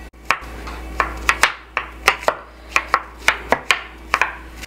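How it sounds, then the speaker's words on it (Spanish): A knife chops scooped-out zucchini pulp finely on a cutting board, about fifteen sharp, fairly regular knocks close by with short pauses between. "tenemos que picar la carne, la pulpa que hemos sacado antes"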